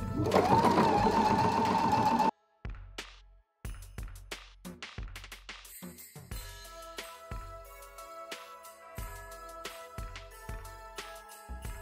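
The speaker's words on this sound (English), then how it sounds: "first I'm gonna sew around the three sides and then sew my divisions" A sewing machine stitches the three sides and pocket divisions of a fabric craft caddy bag, running in repeated short bursts separated by brief pauses, close and steady, after a louder opening stretch.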